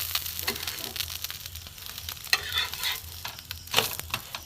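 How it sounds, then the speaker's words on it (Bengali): Food sizzles steadily in a shallow layer of oil as pieces are flipped in the pan for a healthy low-oil recipe, with close crackling and spatter and occasional scrapes and clinks of a utensil. "এটাও আমি উল্টে দেবো হালকা তেলে এরপরে ভেজে নেবো"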